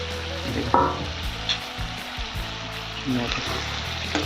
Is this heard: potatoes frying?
yes